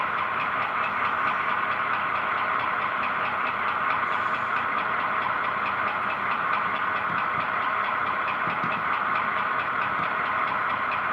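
Four-axle model diesel locomotive engine running on a switching layout, a steady droning engine hum with a faint knocking texture, continuous and fairly loud throughout with no talk.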